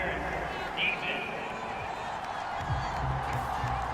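An angry stadium crowd in Madden NFL 23, at a simulated Houston Texans at Dallas Cowboys game, roars with a steady broadband din of disapproval under continuous play-by-play commentary.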